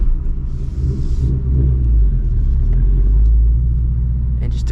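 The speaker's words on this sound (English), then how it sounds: "It has that nice rumble when you first start it up" 2024 Ford Mustang GT engine gives a loud, deep, steady rumble up close, with a faint brief voice over it.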